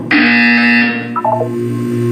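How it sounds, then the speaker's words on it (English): A loud, steady electronic buzzer tone in the video game Portal 2 sounds for about a second, followed by a short descending series of beeps. "You will hear a buzzer."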